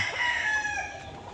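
A Texas-line chicken's voice rises and trails off in a short drawn-out call, fairly faint, more like a crow than clucking, against quiet outdoor background.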